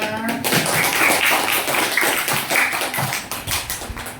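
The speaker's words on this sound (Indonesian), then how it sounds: "Tepuk tangannya mana?" Scattered audience clapping in a classroom-style session, a loose patter of hand claps from a small group, fairly close and lively, with some overlapping noise.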